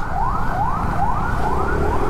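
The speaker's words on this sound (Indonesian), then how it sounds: "ada apa tuh, ambulans." An ambulance siren wails in a steady repeating rise-and-fall pattern, loud and close, over the rumble of city traffic on a motorbike ride in Jakarta.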